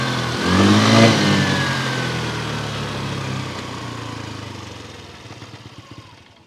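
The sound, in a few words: scooter engine revving while accelerating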